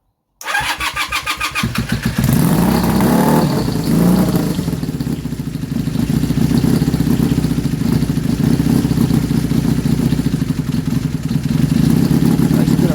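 A Honda Super Dream motorcycle engine on its original carburettor jetting cranks and catches, then runs roughly and unevenly at close range, a steady loud rumble with ragged pulses throughout.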